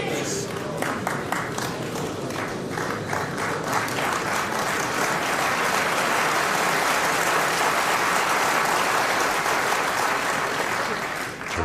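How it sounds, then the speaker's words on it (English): Snooker crowd at the Crucible in 1984 breaks into sustained, dense applause after a frame-deciding shot, loud and steady for the full stretch, with a faint commentator-like voice briefly underneath. "Terrific round of applause then for Steve."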